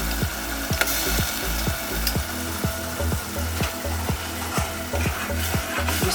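Spoon stirring tomato paste into a simmering Kenyan-style egg stew, a regular series of scraping strokes against the pan over a soft sizzle, with no talking.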